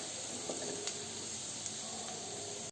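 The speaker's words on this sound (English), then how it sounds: "Now at this stage we are going to add the green pepper wedges which is cut." Onion and green pepper wedges frying in a kadai pan for kadai paneer, a steady, even hiss of sizzling oil with a few faint pops, constant throughout and cut off abruptly at the end.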